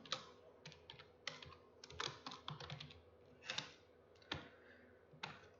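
Typing on a computer keyboard: irregular bursts of quiet, close key clicks with short pauses between runs, and no talking.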